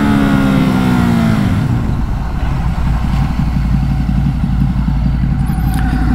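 A Ducati Hypermotard 950 motorcycle engine stalls, its loud low rumble winding down in pitch over the first second or so. A steady, close mechanical drone and road-like noise continue behind it.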